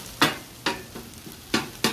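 Tater tots frying on a Blackstone griddle, a steady sizzle punctuated by five sharp scraping or stirring strokes spaced unevenly across the moment, close and fairly quiet with no talk.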